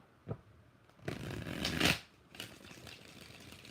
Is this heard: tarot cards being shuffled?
yes